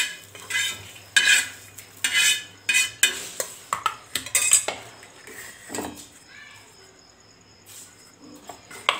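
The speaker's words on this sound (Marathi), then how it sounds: "आता आपण डिशमध्ये काढून घेऊया।" Golden fried onion scooped from a pan into a dish: a run of close metal spoon scrapes and clinks against the pan and dish, busy at first and then thinning out, with a faint insect-like chirp underneath.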